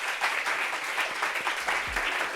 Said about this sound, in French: On applaudit Ciara